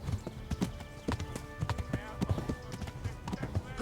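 A horse gallops in Kingdom Come: Deliverance, its hooves beating a quick, steady clip-clop rhythm close by. A voice talks over the hoofbeats.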